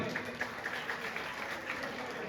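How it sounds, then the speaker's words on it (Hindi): Steady applause from an audience at a Kumawat community event, a dense patter of many hands clapping continuously at moderate loudness with a faint murmur of voices. "जोरदार तालियां बजा के भाई"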